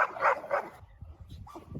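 A dog, likely a defensive-type working breed, gives a few sharp close barks in quick succession, then falls quiet to faint background rustle.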